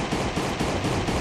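Rapid, dense gunfire in the survival video game Last Day On Earth, a continuous rattling burst filling the whole moment, loud and unbroken.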